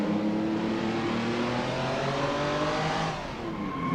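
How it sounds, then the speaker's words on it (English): A custom fan-made race car engine in a video game revs steadily, a buzzing tone climbing in pitch then dipping briefly before rising again, fairly quiet and with no voices. "an actual race car of the era"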